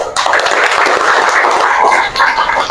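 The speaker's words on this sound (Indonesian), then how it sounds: "Tepuk tangan buat semuanya." Classroom applause from a group of students in an Islamic religious education lesson, a steady wash of many hands clapping at close range, sustained and fairly loud throughout without pauses.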